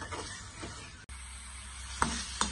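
Chicken liver sizzling in oil in a pan, with a steady frying hiss, a few spoon scrapes and knocks, and two sharper clinks near the end, close and without talk.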